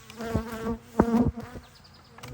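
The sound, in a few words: bees buzzing around a hive box and camera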